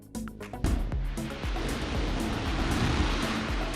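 An Orion capsule test article hits the water in a splashdown landing test: a loud, continuous roaring rush of churning water with a few heavy thuds at the start, then sustained surf-like wash.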